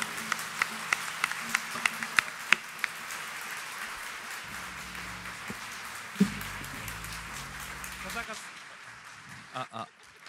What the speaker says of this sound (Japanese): 皆様もう一度大きな拍手で。